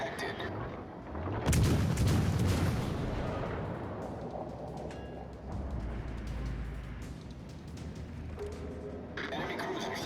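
Heavy naval shells striking a ship in World of Warships Legends, a deep rumbling boom followed by sustained low rolling noise and scattered impacts, with game voices talking over it.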